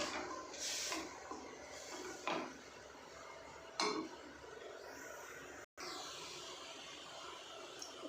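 Chopped onion is stirred in a pan with no oil. A spoon scrapes and clinks against the metal in several distinct knocks over a soft background hiss.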